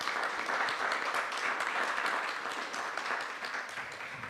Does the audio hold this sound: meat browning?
no